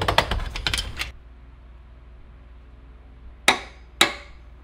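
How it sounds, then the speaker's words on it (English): Torque wrench tightening the oil drain plugs on a Ferrari 458, a quick burst of clicking ratchet sounds followed after a pause by two sharp, distinct metallic clicks, close by with no talking. "we're gonna torque these down to 60 newton meters, which is about 45 foot-pounds."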